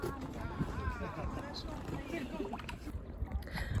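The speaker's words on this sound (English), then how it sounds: "Doing a little bit of paddling." A canoe paddle dips and swishes through calm lake water close by, soft splashes and gurgles running steadily under a voice talking throughout, with light wind rumble on the microphone.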